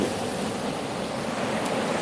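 Sea waves at a seaside, a continuous loud wash of surf with wind rumbling against the microphone and no clear breaks.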